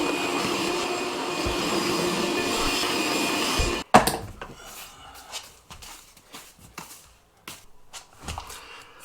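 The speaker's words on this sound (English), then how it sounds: "I'm going to vacuum it up." A vacuum cleaner runs loud and steady up close, sucking sawdust off new baseboards, then cuts off abruptly partway through, leaving scattered knocks and handling clatter.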